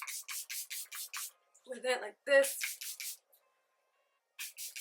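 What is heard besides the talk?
spraying Charlotte Tilbury Airbrush setting spray on face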